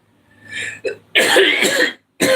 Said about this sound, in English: other than a couple coughs.